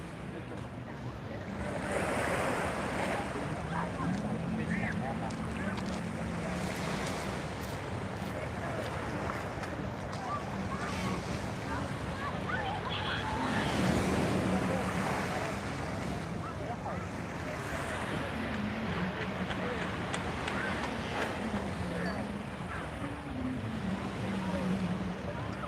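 Ocean waves break and wash ashore at Waikiki beach, a steady rolling surf with wind noise on the microphone, continuous and fairly loud with no talking.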